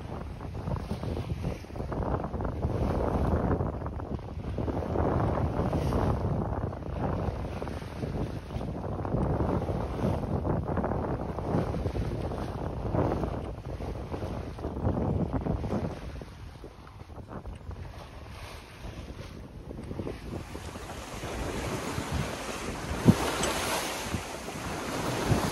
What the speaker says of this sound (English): we're pounding into the waves pretty good